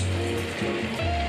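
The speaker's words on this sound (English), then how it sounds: "Now it's time to put our steak in the pan. Off it goes." Steak hitting a hot frying pan for a breakfast steak, giving a loud, steady broadband sizzle that carries evenly through the whole short stretch with no voices.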